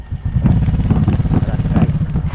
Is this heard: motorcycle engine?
yes